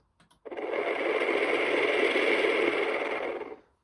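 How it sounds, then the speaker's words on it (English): A smart-plug powered DIY cocktail stirrer at a bar whirs steadily for about three seconds, a close buzzing motor drone that starts abruptly and cuts off. "if I press the button or say the command, it will turn on the stirrer"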